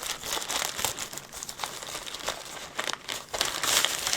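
Packaging crinkles and rustles continuously as a package is opened with scissors, with close, busy crackling and brief tearing textures throughout and no talk.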